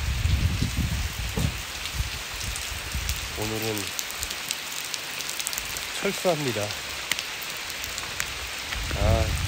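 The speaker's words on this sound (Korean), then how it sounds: "비가 너무 많이 와가지고" Heavy rain pours down on a mountain, a dense steady hiss of drops close around, while someone speaks briefly over it.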